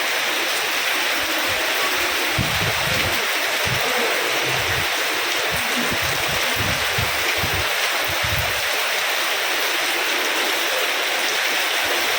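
Evening rain falls steadily in the landslide-hit Wayanad hills, a dense, even hiss that stays loud and unbroken throughout, with faint low rumbles underneath and no voices.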